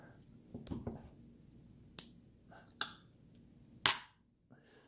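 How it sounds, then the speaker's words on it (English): Old chewing gum drops onto a plate with a few sharp, light clicks and taps spread across a quiet moment, with faint talk and room noise in the background. "that was the sound of it hitting the plate"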